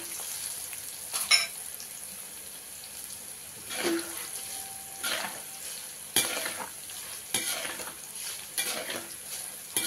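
Chili powder fries with dals in a pan for basmati lemon rice while a spoon stirs it. Repeated close scraping strokes sound over a steady low sizzle. No one speaks.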